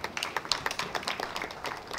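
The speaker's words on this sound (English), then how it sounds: "Applause for him once again." An audience at a university women's week event gives a round of applause, with scattered close and distant claps merging into a moderate, uneven patter across the short stretch, without talk.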